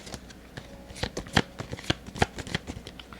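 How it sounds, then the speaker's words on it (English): Tarot cards are shuffled and drawn nearby, producing a quick irregular series of sharp riffling snaps and flicks over about three seconds, with no talking. "let me pull up more information for the Donald Trump cards there from the Minor Arcana to just give more information"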